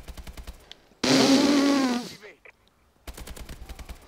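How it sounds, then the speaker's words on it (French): A single loud burst of automatic gunfire in a video game, about a second long, set between stretches of a man's speech. "Après avoir tiré de partout sauf sur toi, j'essaie quand même de te viser."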